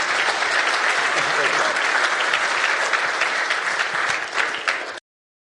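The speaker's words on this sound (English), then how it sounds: "Let's give a big round of applause for Deputy Minister Hale." A seated audience at an agriculture fireside chat gives Deputy Minister Hale a full, dense round of applause that holds steady for about five seconds and then cuts off abruptly.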